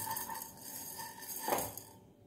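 A spoon stirs coriander seeds dry-roasting in a pan with no oil, while gulla huli, a sambar made without onion or garlic, is being prepared. Soft scraping and light metallic clinks sound close and steady, with a slightly louder scrape near the end.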